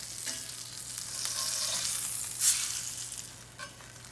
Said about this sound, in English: So let's check our sear on the flesh side.